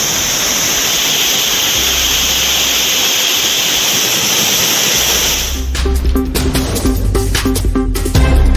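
A flooded waterfall at Courtallam pours in a loud, constant roar of rushing water, a dense hiss that fills the scene before giving way to rougher, closer splashing and rumbling.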